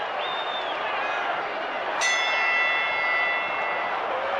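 A boxing ring bell rings once sharply midway, a bright metallic ding that lingers and fades under crowd noise and an announcer talking over a vintage fight broadcast.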